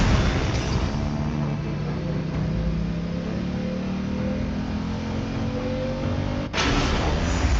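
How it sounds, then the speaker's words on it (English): A vehicle engine revs in Genshin Impact, a loud sustained drone whose pitch climbs steadily, then cuts off abruptly near the end before restarting. "Rev the engine!"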